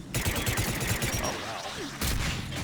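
Rapid gunfire from Mass Effect 3 multiplayer, Asari defending Palaven, bursts of shots in quick rhythmic succession filling the clip, loud and dense with a second volley starting near the end.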